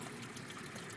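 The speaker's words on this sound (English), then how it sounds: "my water pump in there, just pumping water up to here at all times" An aquaponics water pump runs continuously, pushing water through the system with a faint, steady trickling rush that neither builds nor fades.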